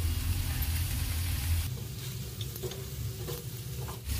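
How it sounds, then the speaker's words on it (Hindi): Snack ingredients with tomato ketchup being mixed in a bowl, a dense close rustling and squelching that thins out after a couple of seconds into softer, lighter stirring, with no voices. "इन सभी चीजों को हम अच्छे से मिक्स कर लेते हैं।"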